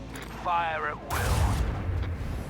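Lance batteries fire a volley in Warhammer 40,000: Rogue Trader: a heavy, rumbling broadside bursts in about midway and rolls on low and full, with talk sitting over it.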